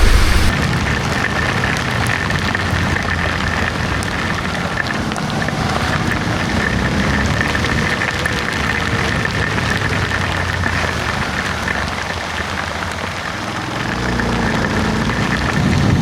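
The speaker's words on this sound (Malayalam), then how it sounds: "നല്ല മഴ, വീട്ടിൽ നിന്ന് ഇറങ്ങിയിട്ട് മഴ ഇല്ലാത്തൊരു മൊമെൻറ്റ് പോലും കേട്ടോ" Heavy rain pours steadily, a dense, unbroken hiss and patter with a low rumble underneath, continuing loud throughout with no voices.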